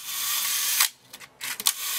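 Copal automatic shutter on a Sinar DB lens firing at a one-second exposure, giving a click that opens, a brief quiet gap, then a closing click with a short mechanical whir, close and alone.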